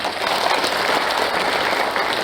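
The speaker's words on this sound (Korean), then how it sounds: "우리 언론 여러분들께 박수 한번 부탁드리겠습니다." Attendees at the founding assembly of a national Yeosu-Suncheon October 19 bereaved families' federation applaud the press, a brief, full burst of crowd clapping held at a constant, fairly loud level, close by and without voices.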